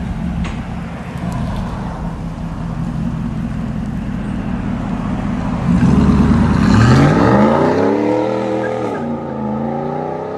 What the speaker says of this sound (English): 1500 with BORLA ATAK and dual tips